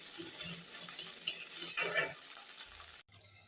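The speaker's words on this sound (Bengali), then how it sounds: "ডিম আমি বেশি কড়া করে ভাজি করবো না, হালকা করে আমার ভেজে নেওয়া হয়ে গেছে।" An egg fries lightly in oil in a kadai, giving a steady close sizzle with a few stirring scrapes, then it cuts off abruptly near the end.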